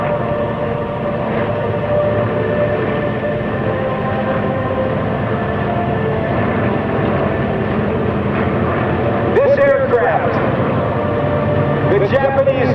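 A Vought F4U Corsair fighter plane flies at an air show, its piston engine droning steadily beneath continuous loudspeaker commentary, with whining pitch sweeps near the end.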